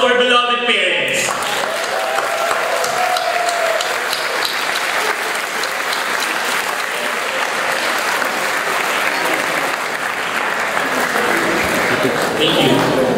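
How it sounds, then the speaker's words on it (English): Graduates and audience at a college commencement applaud their parents, sustained loud clapping from a large crowd that fills the hall evenly for over ten seconds, with a brief voice and a faint whistle at the start. "let us all rise and give a warm round of applause to our beloved parents."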